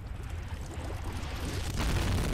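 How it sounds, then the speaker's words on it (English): A thrown pot exploding in Amnesia: The Dark Descent: a rumbling, broadband blast that swells and stays loud to the end, with a sharp burst near the close. "Wow, that was a big explosion for a tiny pot."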